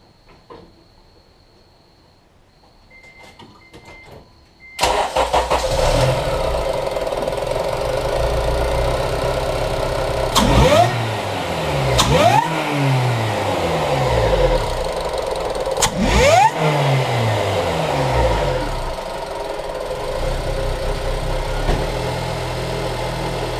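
A Mercedes coupe engine fitted with a Mercracing supercharger cranks and fires after a quiet start, then settles into a loud, close idle broken by three sharp revs that climb and fall.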